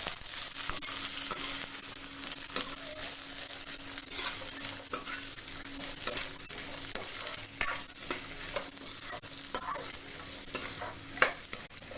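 Half a medium coconut roasting in a pan, a continuous dry sizzle with repeated scraping strokes of a spatula stirring, close and fairly loud throughout, no voices.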